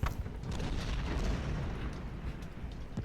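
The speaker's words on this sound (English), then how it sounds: "some nasty little rounds into us from the enemy cannon" Enemy cannon fire in a Gettysburg Civil War strategy game, a sharp opening blast followed by low rumbling booms and distant scattered reports, fairly faint.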